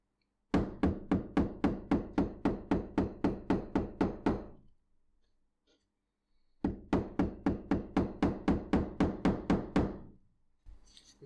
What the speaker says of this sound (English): now we're going to hammer these stitches down